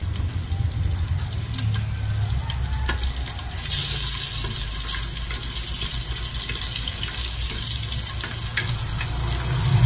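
Ginger sautéing with meat in a clay pot, a steady sizzling hiss that swells louder partway through, with occasional stirring scrapes and no talking.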